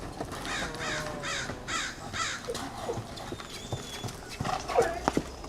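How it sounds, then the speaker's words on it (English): Black Swedish Warmblood stallion trotting in a San Diego arena, steady rhythmic hoofbeats up close with crows cawing around it and a short snort near the end. "you need to settle down and trot"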